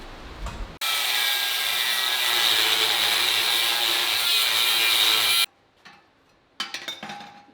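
A power saw cutting along the factory welds of a Harley-Davidson FXR motorcycle frame: a loud, steady grinding rasp lasting several seconds, then stopping abruptly, followed by a brief silence and a few short bursts of cutting.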